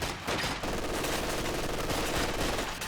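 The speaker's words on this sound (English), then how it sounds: "it's a machine gun." Dense, continuous machine-gun fire from a Company of Heroes 2 battle, a loud unbroken rattling burst filling the whole stretch with no talk.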